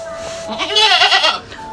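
A goat gives one wavering bleat close by, rising and quivering for about half a second over quiet background noise.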